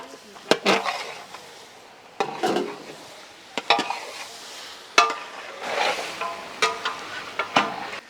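Tomato pieces tumble into marinated chicken frying in oil in a pan for Guntur chicken masala. A spoon scrapes and stirs in repeated knocks over a steady sizzle, and faint talk can be heard now and then.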